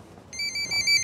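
Telephone bell ringing in short electronic bursts, three or four pulsed rings following quiet background.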